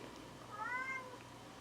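A house cat gives a single short, faint meow, heard alone over a quiet indoor background hum.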